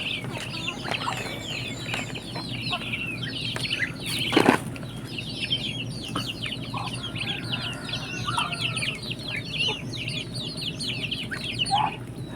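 Native free-range chickens in a backyard cluck and chatter at feeding time, many birds calling in overlapping bursts, with a sudden flurry of flapping wings partway through and a steady outdoor background.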